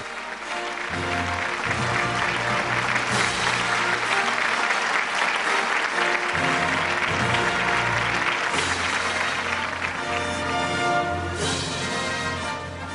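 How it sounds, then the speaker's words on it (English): Sustained audience applause at a business awards event honouring powerful women, full and steady for the whole stretch, with background music tones running underneath. "Big round of applause for Anita Dongre"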